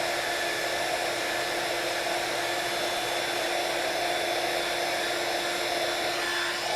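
A heat gun blows steadily while embossing die-cut keys for a craft project: a constant, loud, even hiss and whir that runs unbroken from start to finish, with no talking.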